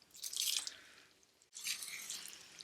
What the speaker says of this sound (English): You stir in the vinegar and shallot mixture into the lentils.